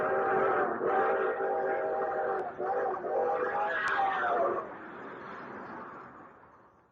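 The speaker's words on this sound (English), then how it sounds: "the long, drawn-out whistle of the 20th Century Limited as she highballed it through the countryside" The long, drawn-out multi-tone whistle of the 20th Century Limited train, played as a radio sound effect, sounds in two sustained blasts before fading out over a rumbling background.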